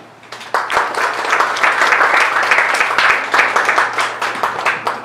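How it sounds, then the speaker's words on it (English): An audience at a school anniversary celebration breaks into applause, a dense, loud wash of clapping hands that swells quickly and carries on steadily before thinning slightly toward the end. "I would like all of you to applaud for him"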